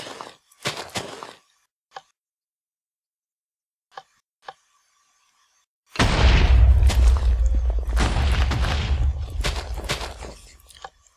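Minecraft TNT cannon firing: a few soft, scattered clicks, then after a pause a loud, dense roar of rapid explosions booming continuously for about five seconds before trailing off.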